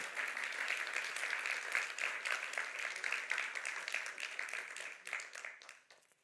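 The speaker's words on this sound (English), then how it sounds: "thank you for the clap" An audience at a lecture on the death penalty applauds with steady, brisk clapping that holds for several seconds and then trails off at the end.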